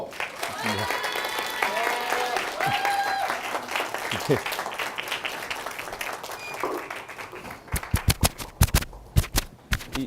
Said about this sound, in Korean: 여러분 힘찬 박수로 현대아산 김영수 상무님을 모시겠습니다